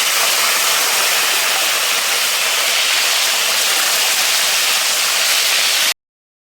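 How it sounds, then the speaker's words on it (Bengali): Okra seasoned with salt and turmeric sizzles in hot oil as a loud, dense, steady hiss for about six seconds, then cuts off abruptly. "এবার তেলের মধ্যে দিয়ে ভেজে নেব"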